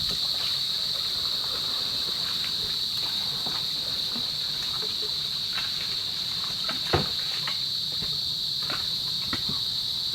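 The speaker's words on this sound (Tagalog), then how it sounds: "Maingay na po ang mga kuliglig" Crickets chirp in a steady, dense, high-pitched drone beside a river, continuous throughout with faint scattered clicks underneath.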